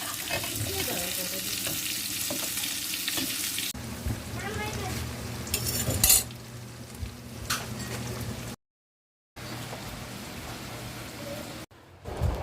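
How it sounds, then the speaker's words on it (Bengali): A big fish fries lightly in a pan, giving a steady broadband sizzle with stirring scrapes; the texture shifts partway through, and a brief silence breaks it before the crackle resumes. "বড় মাছটা হালকা করে ভেজে নিলাম।"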